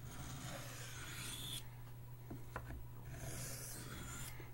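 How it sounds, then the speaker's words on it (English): A Buck 110 knife blade drawn in alternating strokes across a soft Arkansas whetstone, a run of quiet raspy sliding scrapes, close but faint over a low steady hum. "we're going to do alternating strokes, because what I'm going to do, I'm just refining and beginning to polish this bevel"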